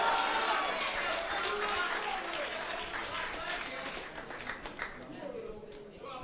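A crowd applauds and cheers throughout a black-belt grappling match, the dense clapping steady and loud, easing slightly toward the end, with a voice talking over it.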